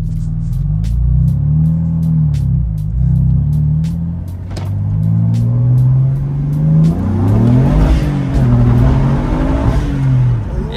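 BMW F80 M3 fitted with front-mount intakes revving and pulling away, a loud, deep engine drone rising and falling through several throttle pushes, close by and without talk.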